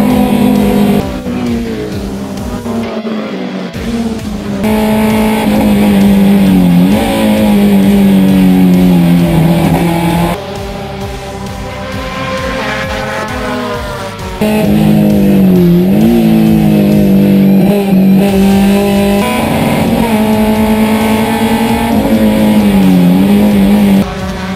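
Race cars roar loudly past at the Cascavel de Ouro race, engines rising and falling in pitch as they accelerate and shift, with brief dips between waves of passing cars.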